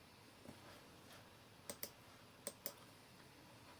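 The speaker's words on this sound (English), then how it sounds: "So I'm going to type Noel." A handful of sparse, separate keystrokes on a computer keyboard typing a short word, crisp faint clicks spaced apart over a quiet room background.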